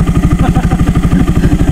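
A chrome motorcycle idles close by with a steady, rapid, even engine pulse, loud and unbroken through the short stretch, with no talk over it.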